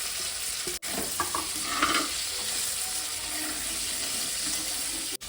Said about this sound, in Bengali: আমি এর মধ্যে ভেজে রাখা পনিরগুলো দিয়ে দেবো।